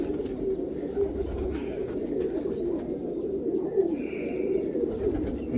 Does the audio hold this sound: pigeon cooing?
yes